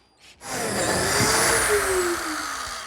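A power drill whirs steadily as it drives a self-drilling pan-head screw into hardwood, a continuous close buzzing whine lasting a few seconds after a brief pause.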